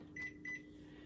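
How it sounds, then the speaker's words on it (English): Low steady humming of a microwave oven cooking pork tenderloin, with two short electronic beeps near the start, quiet and close. "so we'll pop that into our microwave"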